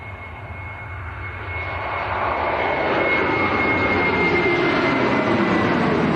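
A Ryanair airliner's jet engines at Manchester Airport, on a flight to Liverpool, build from a distant rumble into a loud, sustained roar.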